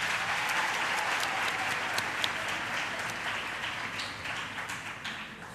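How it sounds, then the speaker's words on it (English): Students in a university campus audience break into steady applause, a dense wash of clapping that holds for several seconds and slowly fades, with no talk over it. "Can you please give yourselves a round of applause for attending?"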